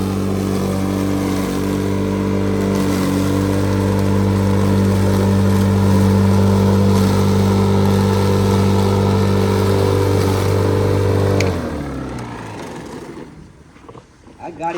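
A vehicle engine runs with a steady, loud, humming drone for several seconds, then winds down and falls quiet near the end.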